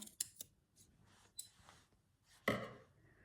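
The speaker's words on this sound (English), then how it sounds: "Dressmaking scissors. Do the job properly, girl. Let's cut that through there." Dressmaking scissors cut through quilt fabric in a few quick, crisp snips, with a louder, longer cut near the end, close and alone with no talk.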